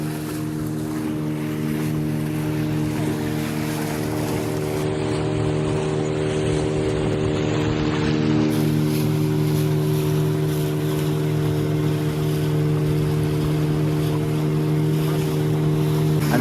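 A motorboat cruises on the sea off Ladghar beach near Dapoli, Ratnagiri, its engine a steady close drone with water and wind rushing around it throughout.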